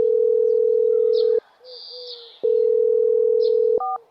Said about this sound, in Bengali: একবার বীরেনকে ফোন করে দেখি।